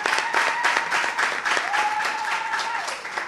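Audience applauding an administrator at a public event, continuous dense clapping with a steady tone running across it.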